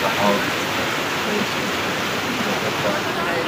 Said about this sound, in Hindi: काफ़ी सारा पानी आ रहा है